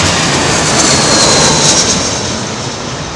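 Airliner landing at Heathrow Airport in strong, gusty crosswind, a loud steady jet engine roar with rushing air that holds close and then slowly eases off.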